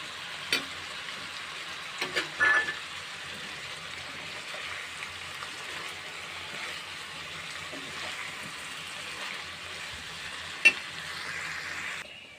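A spiced tempering of carrot and chicken with cumin and coriander powder fries steadily in a pan, a continuous soft sizzle with a few brief clinks of stirring, heard alone without voices.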